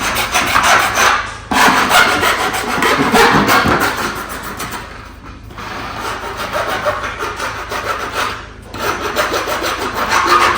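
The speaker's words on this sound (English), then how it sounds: "We then make sure to deburr," Gutter deburring on a freshly cut section of guttering: a loud, continuous rasping, filing scrape in long strokes, with brief pauses between passes and no speech.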